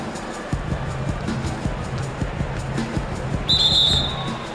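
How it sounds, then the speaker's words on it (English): In NBA 2K17 basketball gameplay, a referee's whistle gives a short, shrill blast near the end, preceded by rhythmic ball bounces and arena background noise. "So the whistle blows on the shot"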